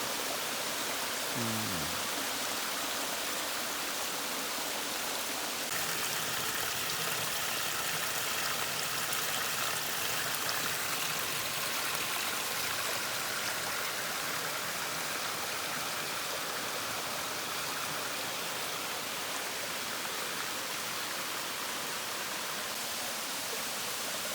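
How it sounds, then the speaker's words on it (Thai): A continuous rushing hiss of falling water, broad and steady throughout, like a waterfall heard from close by, at Aree Doi waterfall, Thailand. "คือน้ำตกอารีดอยนะครับ"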